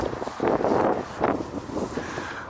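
Gusty wind buffets a camera's built-in microphone outdoors aboard an electric sailboat, coming as loud rumbling bursts and swells with no one talking.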